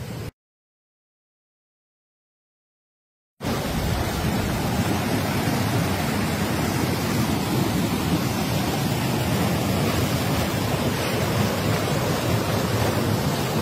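A mountain stream rushes along a slippery riverside trail, a steady, close, loud broadband roar of flowing water that continues without a break after a brief silent gap at the start.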